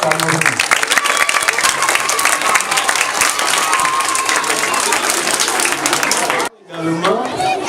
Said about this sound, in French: Applaudissez pour Oxford Cameroun.